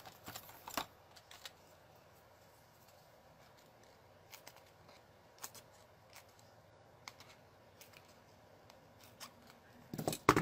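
Scissors trimming foil-edged holiday cards, a handful of quiet, scattered snips spaced across a hushed room, with a slightly louder cluster of cuts at the very end.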